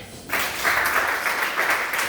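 An audience claps in a burst that starts abruptly and holds steady, a dense wash of hands at a comedy show, with no voices over it.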